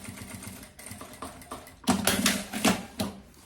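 A sewing machine runs in short bursts while backstitching across a zipper strap on a handmade carry-on suitcase, the needle rattling loudly and close with brief pauses between runs.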